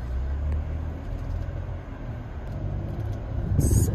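Cars rumble near a high school football stadium in the Chicago area, a low continuous traffic drone that swells and fades, with a louder burst of engine noise and a hissing rush at the end.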